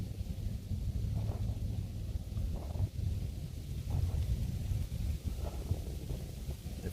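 Wind blows steadily outdoors at a bushcraft fire-starting spot, a constant low rumble of gusts buffeting the microphone, loud and close, with no speech.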